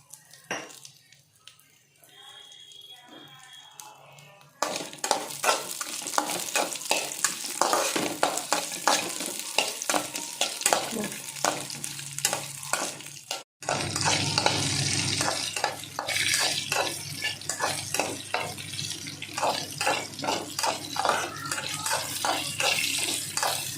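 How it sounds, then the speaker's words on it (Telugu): Torn green chilies fry in oil for an amla chutney. After a quiet start, a loud, dense crackling sizzle begins, cuts out briefly, then resumes just as strongly. "ఇలా తుంపేసుకుంటే పచ్చిమిరపకాయలు పేలకుండా ఉంటాయండి ఇంకొక స్పూన్ ఆయిల్ వేసుకుందాం"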